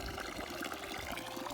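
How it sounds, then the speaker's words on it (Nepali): Tap water running during a bath, a steady, close splashing trickle with no pauses, fairly quiet and with no talking. "पानी चाहिँ सुकेर सानो आउँदो रहेछ"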